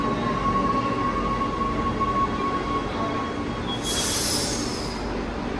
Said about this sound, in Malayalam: ഞങ്ങളുടെ മെട്രോ വന്നു കേട്ടോ